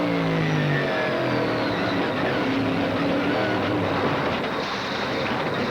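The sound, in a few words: Trans Am race car crashing, onboard view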